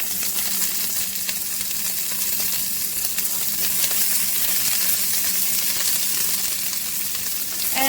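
Onions frying in a pan on a stove at medium heat, for Hungarian tomato cabbage: a steady, close, broadband sizzle holding evenly for eight seconds with no talking.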